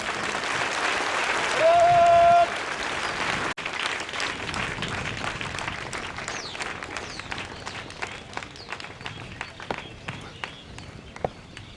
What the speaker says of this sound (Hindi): इनका तालियों से स्वागत करें।